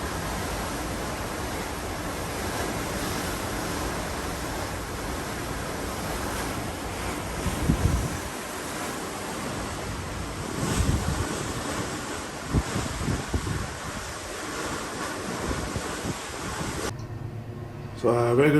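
The Genting World Dream cruise ship sails back into Singapore, with a steady rush of waves and sea wash under heavy wind buffeting the microphone, a continuous broad roar that swells in places.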